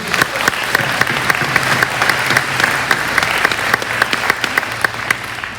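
Audience at a school athletic awards ceremony clapping together, a steady, dense round of applause of moderate size that holds evenly for several seconds before easing slightly.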